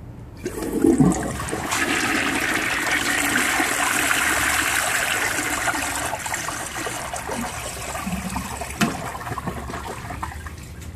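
An early-1960s Universal Rundle front-trap toilet flushes loudly, water rushing and swirling for several seconds before draining down to a softer trickle and gurgle.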